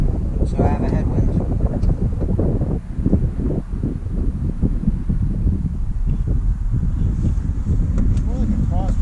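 Strong headwind buffets the microphone during flight near I-40, a steady low roar of wind noise running throughout beneath intermittent talking.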